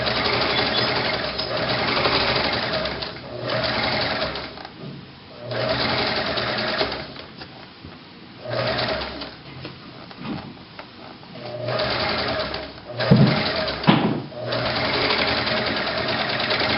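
Sewing machine back stitching a seam on pants, running in repeated steady whirring bursts with brief pauses between passes, close and clear with no talk.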